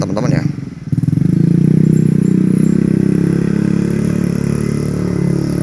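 A motorcycle engine revs up loudly and close by, holding a steady roar for several seconds after a brief rattling start.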